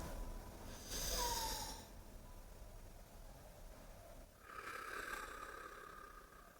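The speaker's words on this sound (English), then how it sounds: "then exhale" A deep breath exhaled slowly during a relaxation exercise: soft, breathy airflow close to the mic, with two quiet rushes of air separated by a pause over faint room hiss.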